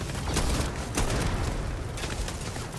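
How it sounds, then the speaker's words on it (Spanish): Explosions in the video game Starfield go off as a few sharp, loud bursts over a dense, rumbling background of combat noise. "¿Y esas explosiones?"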